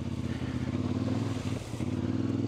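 A CFMOTO 450MT adventure motorcycle ridden off-road over muddy terrain keeps up a steady, throbbing engine drone throughout, close and continuous, with a brief dip in the middle.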